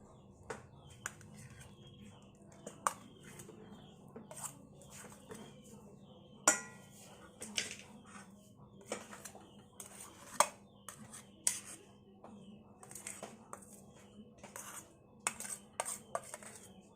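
Powdered sugar and margarine are worked together in a bowl for no-bake nastar cookie dough, a utensil clinking and scraping against the bowl in irregular light taps amid quiet background chirps.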